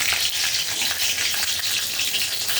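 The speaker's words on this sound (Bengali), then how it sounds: "কালো জিরে আর কাঁচা লঙ্কাটা একটু ভাজা হয়ে যায়" Black cumin seeds and green chillies fry in white oil in a wok, a steady, dense sizzle that crackles close and continuously with no talk over it.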